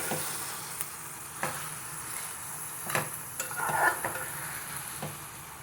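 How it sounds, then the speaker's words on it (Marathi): Mutton sautés in oil with onion and tomato, giving a soft steady sizzle broken by several sharp scraping stirs of a spoon against the pan, close and loud, with no talking. "चांगलं कांदा टोमॅटोमध्ये मटण चांगलं परतून घेऊया आपण"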